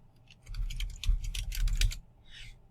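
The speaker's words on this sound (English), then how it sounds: "Again, type in your program," Rapid typing on a computer keyboard, a dense burst of close key clicks for about a second and a half followed by a brief softer patter, no voices.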